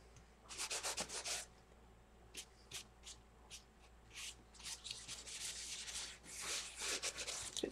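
A painted craft surface being rubbed down by hand with short, scratchy, repeated strokes that come in uneven bursts, close and fairly quiet, with no speech.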